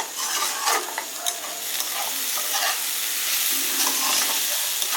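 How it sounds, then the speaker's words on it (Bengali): Shredded cabbage fries over a high flame in a Bengali-style dish, with a dense, constant sizzle and frequent scraping stirs of a spatula close up, with no talking. "5 মিনিট আমার হাই ফ্লেমে ভালো করে বাঁধাকপিটাকে ভাজছি।"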